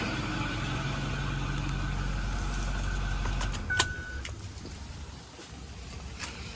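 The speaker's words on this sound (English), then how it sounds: "So let me shut the ignition off. We'll get this started." A 2008 Ford F250 pickup truck idles with a low, steady engine rumble for several seconds. Then there is a brief click and a short electronic tone as the ignition is switched off, followed by quiet mechanical sounds and a faint hiss.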